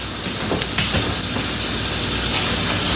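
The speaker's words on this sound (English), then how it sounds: "Let me put some more water in there." Water pours steadily into a pan of thick cornstarch-thickened sauce, a loud, continuous rushing splash heard up close with no talking.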